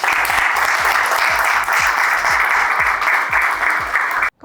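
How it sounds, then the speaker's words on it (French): Audience applause for an invited business speaker at an evening event, steady dense clapping from a crowd that fills the room, loud and sustained for about four seconds before cutting off abruptly. "je vous demande d'applaudir, s'il vous plaît, Didier Clark."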